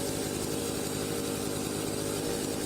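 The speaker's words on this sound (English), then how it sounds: "Why is the chainsaw not getting it?" A chainsaw cuts wood in the video game Farming Simulator 25, its engine whining at a steady, loud, continuous pitch throughout without a break, with no voices heard.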